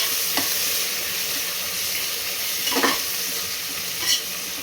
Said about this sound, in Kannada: ಕೊತ್ತಂಬರಿ ಸೊಪ್ಪನ್ನ ಆ್ಯಡ್ ಮಾಡಿಕೊಂಡು 1-2 ಸೆಕೆಂಡು ಇದನ್ನು ಎಣ್ಣೆಯಲ್ಲಿ ಸಾಳಿಸ್ಕೋಬೇಕು.